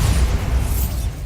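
A Bombarda spell blast in Hogwarts Legacy, a loud, sustained low rumbling boom filling the whole moment with no voices over it.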